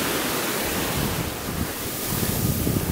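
Sea surf at a beach resort, a continuous broadband wash of breaking waves, close and fairly loud, mixed with rumbling wind buffeting the microphone.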